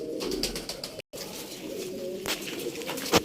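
A pigeon coos softly and repeatedly at close range, low throaty notes with a brief sharp chirp near the end; no talking.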